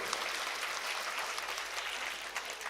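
A crowd at a temple festival celebration claps in a dense, steady burst of applause that fills the whole moment, heard from within the audience with no speech over it.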